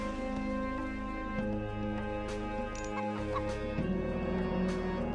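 Chickens in the video game Age of Mythology cluck steadily over layered in-game ambient tones and music, with soft repeated clucks and no talk.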